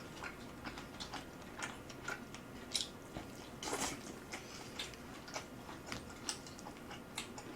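Soft, close chewing of pork trotters with kimchi, a series of small wet clicks and crunchy bites at an irregular pace, quiet with no talking.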